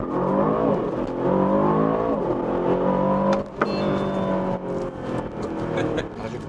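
An Aston Martin DBX707 SUV in Sport Plus mode with ESC off pulls away hard from a launch start, its engine note rising through the gears, loud and steady, with a brief dip partway through.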